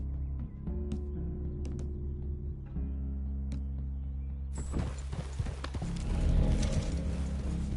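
Horses in Red Dead Redemption 2 shift and clop slowly on the ground with soft snorts over a low rumbling ambience, and the hoof and movement noise swells toward the end.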